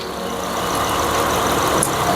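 Car engine idling with one ignition coil removed, running rough on a misfiring cylinder; a steady, fairly loud mechanical hum with uneven texture continues throughout without talk.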